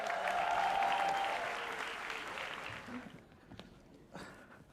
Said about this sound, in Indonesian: Tepuk tangan untuk Insan Nur Akbar.